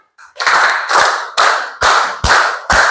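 A group in a classroom session claps together in unison, six sharp, loud claps in two sets of three, evenly spaced.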